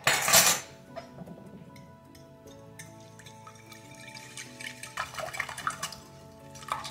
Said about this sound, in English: we're gonna whisk that together until it's nicely blended